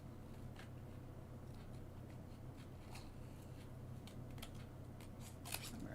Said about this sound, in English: When you're cutting, you always want to move the paper more than you move the scissors.